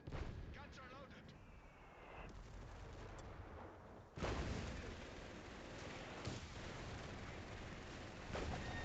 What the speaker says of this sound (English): mortars are killing your machine gun